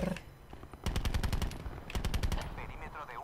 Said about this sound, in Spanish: está mi compañero ahí disparando a tope